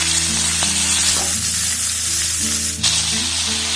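Chicken pieces sizzle steadily in hot oil and butter for a restaurant-style chicken soup, a continuous close frying hiss with soft background music and no talking.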